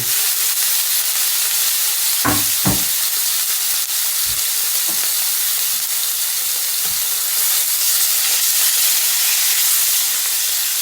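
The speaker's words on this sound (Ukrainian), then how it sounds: "Після того, як у нас сковорідка добре розгорілася, кидаю сюди ковбаску." Steady broadband sizzle of sausage frying in a hot pan, with a few brief clunks and scrapes along the way; no talking.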